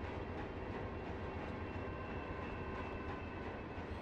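An intermodal freight train in the Run8 V2 rail simulator rolls along with steady, faint wheel rumble and repeating clickety-clack rail joints, heard continuously without speech.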